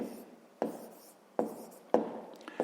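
A pen scratches across paper while working through a sixth-grade maths exercise, faint and close, in short strokes with a few sharp taps marking new marks.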